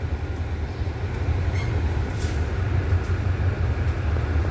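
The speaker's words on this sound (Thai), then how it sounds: "นี่ก็เก็บบรรยากาศคร่าวๆ ที่สถานีหัดใหญ่มาให้ชม ฮิตาชิมาต่อหัวครับเพื่อจะ อนำขบวน" A Hitachi diesel locomotive idles at Hat Yai Junction railway station, a steady low engine rumble dominating the scene with faint station clatter and a brief high tone above it, no talking.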